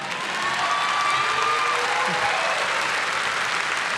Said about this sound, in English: You guys can clap for these folks,